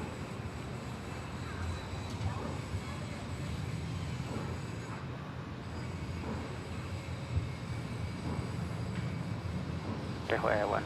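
An EVA Air Boeing 777 takes off at Bangkok Suvarnabhumi Airport, its jet engines giving a steady, broad roar throughout, with voices talking over the noise.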